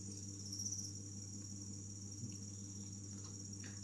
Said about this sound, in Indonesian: ini adalah jangkrik yang baru menetas kemarin